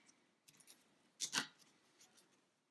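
Small scissors snipping a yarn end on a crocheted amigurumi squirrel, a few quiet close snips with one clearer double cut in the middle, otherwise near silence.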